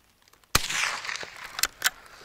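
A single sharp TOZ-78-04 rifle shot fired with an Okhotnik 370 supersonic cartridge, loud and close, followed by a couple of fainter clicks and knocks.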